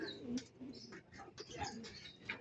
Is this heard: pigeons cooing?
yes